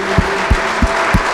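Church congregation clapping together in rhythm during a worship service, four steady claps spaced about a third of a second apart over a low organ-like hum, with no talking.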